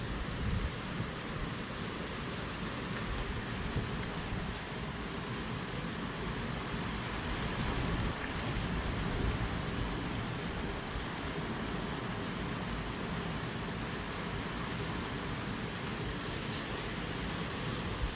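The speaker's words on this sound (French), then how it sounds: "il se remet à pleuvoir très fort" Heavy rain pours steadily during a windstorm in Bordeaux, a dense, unbroken wash of hiss that stays even in loudness throughout, with no voices.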